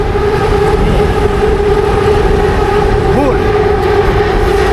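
A steady, loud rumble of a passing high-speed train with a continuous roar and faint tonal whine, unbroken throughout.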